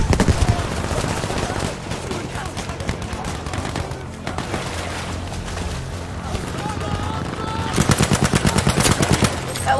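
Rapid gunfire from Battlefield 5 on PS4 fills the scene, with bursts of automatic weapon fire and a dense crackling volley near the end, while players talk over the battle.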